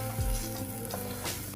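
Okra frying in oil in a pan for bhindi masala, a steady close sizzle with a few soft stirring scrapes.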